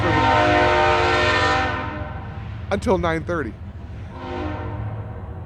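A loud train horn blares nearby, fades, and a voice speaks briefly before the horn sounds again over a low rumble.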